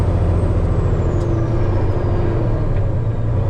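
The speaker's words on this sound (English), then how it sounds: "this is as fast as I want to be accelerating right now, especially in the low gears." A truck accelerating in its low gears gives a loud, steady, close engine rumble with a faint high hiss on top, and no talk.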